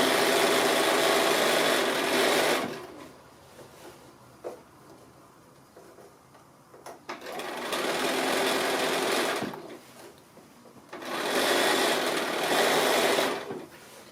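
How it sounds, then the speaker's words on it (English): A sewing machine stitches a fabric drawstring bag in two or three steady whirring runs, with quieter pauses between them and no talking. "So I think I'll just keep going and stitch all the way around"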